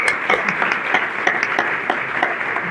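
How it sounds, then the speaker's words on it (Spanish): A conference audience applauds a speaker, a steady, moderately loud wash of many hands clapping in a hall, with a few sharper individual claps standing out. "Pienso que la aplaudimos"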